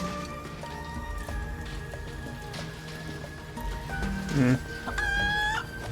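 Chickens in the Final Fantasy 7 Rebirth video game cluck in short bursts over a steady bed of game music and ambience, with a louder flurry of clucks near the end.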